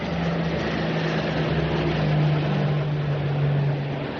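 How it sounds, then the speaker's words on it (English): A four-engine WWII aircraft passes overhead in a radio drama, a continuous, loud, droning propeller hum with a steady low pitch that swells slightly and holds throughout. "4 engines. That's either a Sunderland or a Focke-Wulf nosing about."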